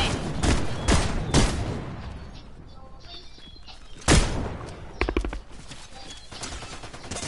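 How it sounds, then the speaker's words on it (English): Loud, close gunshots ring out in a multiplayer video game, a few heavy single blasts and quick bursts spaced across the clip, with players talking over the action. "Somebody shooting me."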